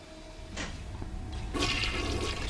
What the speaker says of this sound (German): Erstmal runtergespült, was hier gibt.